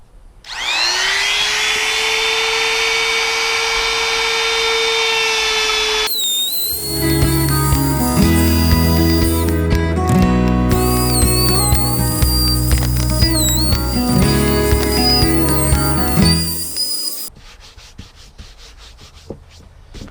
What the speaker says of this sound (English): It's all routed out nicely.